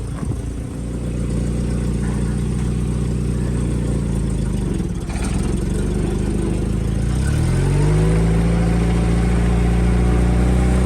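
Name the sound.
vehicle with 1.5 litre Toyota engine driving, towing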